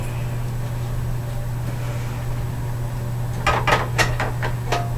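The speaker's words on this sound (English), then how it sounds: "Get this big old frying pan out of my way." A steady appliance hum runs throughout, then near the end a big, hot, heavy frying pan is shifted with several sharp metallic clanks and knocks.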